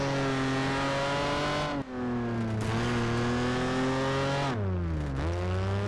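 A race car engine in Project Gotham Racing 4 revs loudly and steadily, its pitch holding, dipping briefly, then climbing and falling through gear changes, heard alone with no talk.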